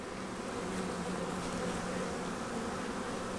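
A honey bee colony buzzes in a steady, close, dense drone while the hive is opened for a winter inspection, the bees clustered tightly; no talk over it.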